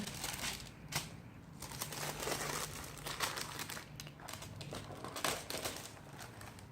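Crinkly wrapping paper rustles and crumples steadily as a planner is unwrapped by hand close up, a continuous papery crackle with a few sharper tears and snaps, fairly quiet.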